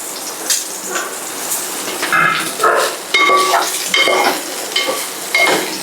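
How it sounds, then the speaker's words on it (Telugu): Soya chunks (meal maker) fry and sizzle in hot oil in a pan, with a steady crackling hiss and repeated scraping stirs from a spoon, close and fairly loud. "మనం దీంట్లోనే ఈ సోయా సీడ్స్ అయితే వేసుకొని మనం కొంచెం లైట్గా రోస్ట్ అయితే చేసుకున్నాము"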